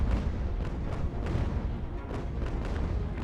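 Continuous rumbling musket and cannon fire from a battle in Ultimate General, distant booms and crackling volleys rolling together under a low, steady roar without pause.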